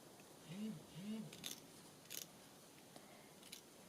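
Fabric-cutting scissors snipping through lace, a few crisp close snips spaced apart in quiet surroundings.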